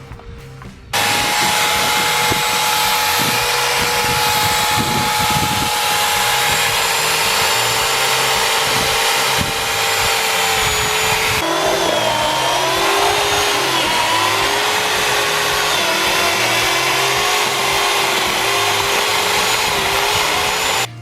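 A budget chainsaw runs loud and steady while cutting into a tree, its engine pitch dipping and shifting midway as the chain bites deeper, alone with no talking.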